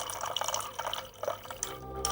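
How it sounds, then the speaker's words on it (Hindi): Water poured into a drinking glass in a quiet room, a short gurgling trickle with small splashes and drips, moderately faint, with no one speaking over it. "अरे भाई रजिया, जरा मुझे एक गिलास पानी दे दीजिए"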